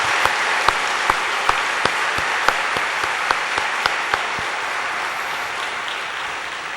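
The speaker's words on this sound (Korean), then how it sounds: "다시 한번 여러분 박수로 환영합니다." A Korean church congregation at a Sunday evening service applauds to welcome new members, a steady wash of clapping with a few sharp, louder claps standing out near the front early on.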